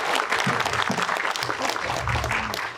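Audience applause at an award ceremony, a steady wash of clapping from a crowd filling the whole moment, loud and continuous with no voices standing out.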